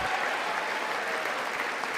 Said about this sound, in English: Oh my God, enough clapping.